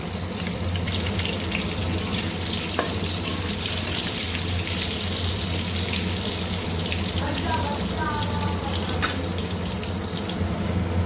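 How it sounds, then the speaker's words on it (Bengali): Potatoes frying in hot oil, a continuous loud sizzle and bubbling hiss that stays even throughout, with a few faint clinks and no talk. "আলুটাকে ভেজে নেব একটু হালকা লাল লাল করে"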